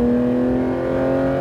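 A Porsche GT3 accelerating on a track, its engine a loud, steady droning hum held close throughout a brief moment, with no voices over it.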